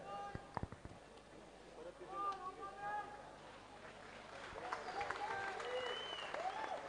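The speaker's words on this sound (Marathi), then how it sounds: "प्रत्येक पोजला प्रेक्षकांना विनंती, आपण टाळ्या टाळ्या वाजवायच्या आहेत." Audience at a handicapped 55 kg bodybuilding competition applauding a pose, a faint distant spread of clapping mixed with crowd noise and voices, swelling slightly toward the end.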